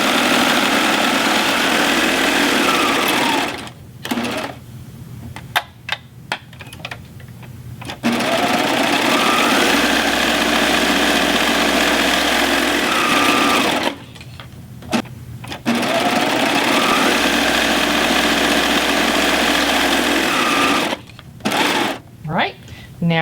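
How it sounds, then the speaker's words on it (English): Serger machine stitching the long edges of a fabric face mask, running in steady sustained bursts separated by short pauses, loud and close. "First thing I'm going to do is serge the long edges of the mask."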